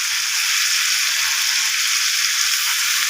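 Potatoes with spices sizzle and fry steadily in a hot pan while being stirred, a loud, continuous close hiss with no voices.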